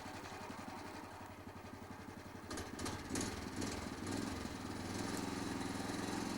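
A small engine runs steadily on a log loading crane mounted on a trailer, a chugging idle that rises and grows busier partway through, with faint clanks layered over it.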